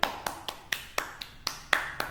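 A handful of students clap in a classroom, producing sparse, irregular hand claps spaced about a quarter second apart and fairly faint.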